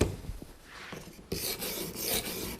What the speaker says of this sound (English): I'll just keep grinding away until I get my bevel down to under 1 millimeter